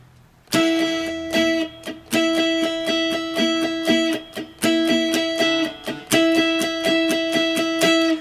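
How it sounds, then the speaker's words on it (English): A guitar chord strummed gently in a steady down-up rhythm, each stroke soft and slightly muted, ringing close and clear with no talking. "Now I'm striking these strings very gently with the pick"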